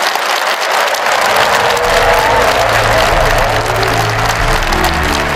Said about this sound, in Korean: 다시 한번 대통령님께 큰 박수 부탁드리겠습니다